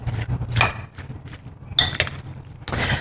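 Spoon clinks and scrapes against a bowl in a few short bursts while diced pico de gallo ingredients, including garlic and jalapeno, are mixed together, fairly close and moderately loud, with quiet gaps between strokes.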